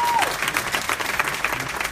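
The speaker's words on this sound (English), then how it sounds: "I think that deserves a bigger round of applause." Audience applause at a live seminar event, a steady dense clapping that holds at even loudness for about two seconds, with a brief whistle-like tone at the start.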